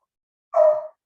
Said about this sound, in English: I have a barking dog here.